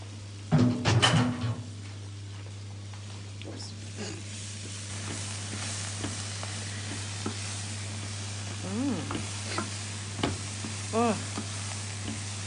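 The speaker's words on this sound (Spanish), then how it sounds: "Cuando ya está un poco frito, la cebolla." Onions fry in a pan of bean and mushroom stew seasoned with oregano and basil, giving a steady low sizzle over a constant hum, with a few clattering knocks early on and faint voices in the background.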